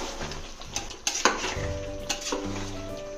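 Marinated chicken being stirred with salt in a pot, close metallic scrapes and clinks of a spoon against the pot over a light background sizzle.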